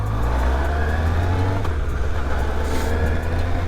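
A 2000 Yamaha YZF R1 sportbike engine drones steadily at speed during a ride, a loud sustained low hum mixed with wind rush and no talking.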